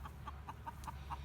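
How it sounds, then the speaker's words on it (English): Hens on a farm clucking softly, a short, faint run of evenly spaced clucks, about six in quick succession, over a low background rumble. "So our chickens here, we've got our hens"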